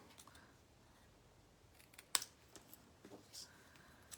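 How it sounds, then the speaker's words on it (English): Scissors snip through paper while cutting pieces apart for a treat bag, making a few quiet, close clicks and one sharper snip. "cut these apart in the middle"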